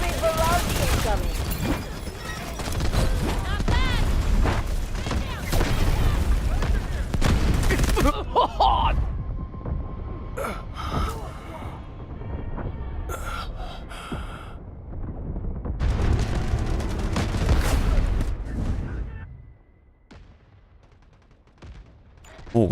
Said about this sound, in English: artillery barrage incoming